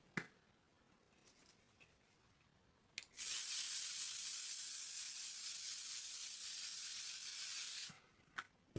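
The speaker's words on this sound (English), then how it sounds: "I'm going in with L'Oreal's Infallible Setting Spray." A continuous fine mist of L'Oreal Infallible Setting Spray hisses steadily for about five seconds, close and fairly loud, framed by a few sharp clicks and taps before and after.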